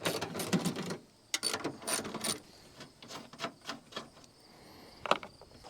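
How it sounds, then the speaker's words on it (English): Ratchet with a 13 mm socket working loose the battery bracket bolts on a truck, heard as bursts of close clicking and metallic rattles separated by brief pauses, with some handling clatter. "just a ratchet and socket with 13 millimeters"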